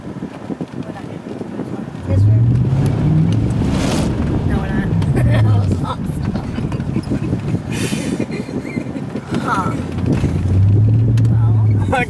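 A car ploughs through standing water on a road, a loud continuous rush and splash with low engine drone rising in surges, while people talk excitedly over it.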